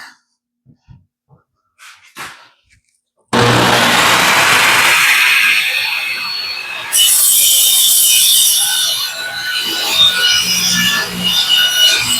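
A table saw cutting circles from wood for lazy Susans and pantry shelves: after a few faint handling knocks, the blade roars loud and close into a sustained, rasping cut that shifts in pitch midway and continues steadily to the end.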